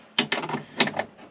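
A 10 mm socket on a hand ratchet clicks in short bursts while bolts are tightened onto a car's AC unit, close and fairly loud, with a few rapid pawl rattles over about a second.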